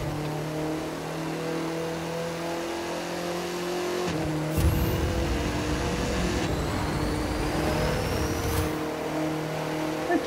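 Audi TT RS racing in The Crew 2, its engine droning and revving steadily, with sharp pops and crackles bursting out at the gear shifts.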